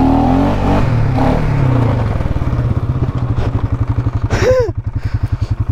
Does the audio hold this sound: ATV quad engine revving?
yes